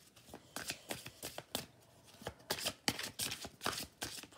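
Tarot cards are shuffled and drawn by hand, giving a series of close, crisp riffling and sliding bursts with short pauses between them, quiet and without talk.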